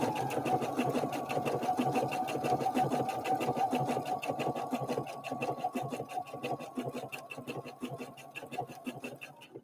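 A Husqvarna Viking Opal 650 sewing machine stitches through a quilt, its needle pounding in a fast, even rhythm that stays close and steady throughout, with no talking.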